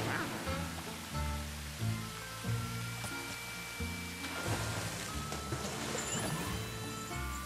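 Rubber ducks in Luigi's Mansion 3 give a run of rapid squeaky quacks, busy and overlapping, over a splashy, noisy game background.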